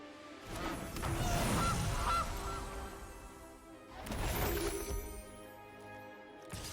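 A goose honks loudly in the Magic: The Gathering Arena card game, with two raucous, crashing bursts a few seconds apart and no speech over them.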